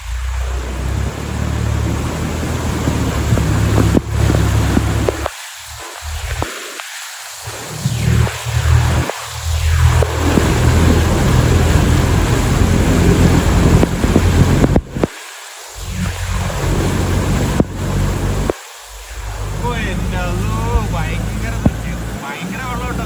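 A vehicle pushing through rushing floodwater in heavy rain, a loud continuous roar and wash of water and engine rumble, briefly dipping several times, with voices talking over it.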